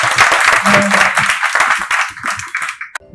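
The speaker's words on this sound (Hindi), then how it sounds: "पहले सबसे पहले भैया के लिए एक जोरदार तालियां" Audience applause at a stage event of a spiritual service organisation, loud and dense clapping filling most of the clip with some talk mixed in, fading toward the end.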